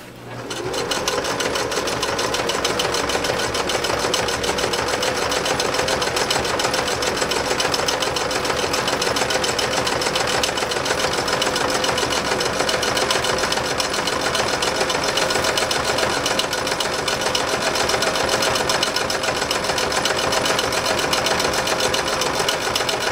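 A Singer 6221C sewing machine stitches through cowhide leather with a fast, continuous mechanical whir and clatter that stays close and steady for over twenty seconds, with no talk over it.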